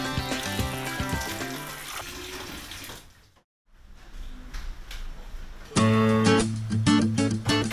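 Water from a tap runs steadily as water hyacinth plants are washed clean, the flow splashing and gurgling, briefly cutting out, then returning with a louder rush alongside clattering handling sounds.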